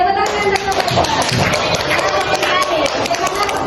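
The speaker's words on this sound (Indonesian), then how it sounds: "Oke, tepuk tangan." A classroom group claps during a microteaching lesson on negotiation texts played with a Monopoly game, steady dense applause filling the room with voices mixed in.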